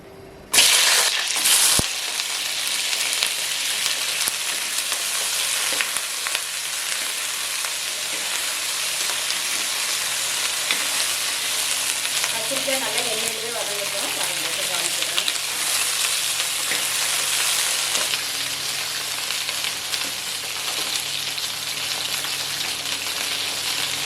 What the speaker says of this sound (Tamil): எண்ணெய் நல்லா சூடாயிடுச்சு இப்போ கத்திரிக்காய் வதக்கி எடுத்துக்கலாம்